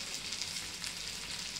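Okra and potato frying in a pan, a dense, steady bright sizzle with soft crackle as the vegetables are stirred together, close and continuous.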